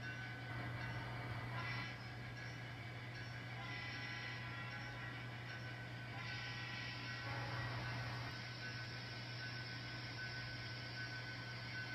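An N scale model train locomotive with a Paragon Sound system powers up under throttle, producing a continuous diesel engine rumble and hum with a steady tone. It stays constant throughout, with faint shifts in the noise.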